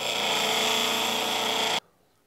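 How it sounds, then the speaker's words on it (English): A steel chisel is ground on a grinder, giving a loud, steady, rough abrasive whir that stops abruptly near the end. "don't lose your grip as you continue to grind"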